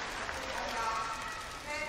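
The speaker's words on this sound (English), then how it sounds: "Big cheer, because Cheung hasn't scored in a while." Crowd at a men's foil fencing final at the 2023 Universiade, cheering and clapping in a steady, dense roar that fills the hall, with a commentator talking over it.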